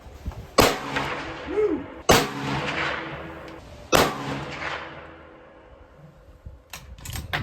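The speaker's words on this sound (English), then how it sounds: "Let's get a group of 3 shots." Three loud rifle shots from a Savage Axis fired at a range, evenly spaced about one and a half seconds apart, each a sharp crack followed by a decaying echo, with faint clicks afterward.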